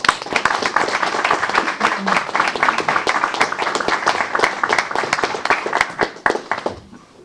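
Hands clap in a round of applause at a Temple Terrace city council meeting after a proclamation, a moderately sized group clapping briskly and close, fading out near the end.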